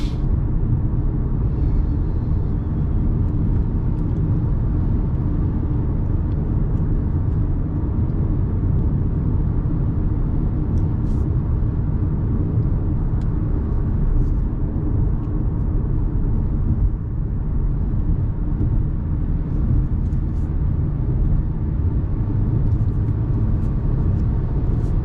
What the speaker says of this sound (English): It is kind of noisy. Wind noise and tire noise, I'm getting them both at 70.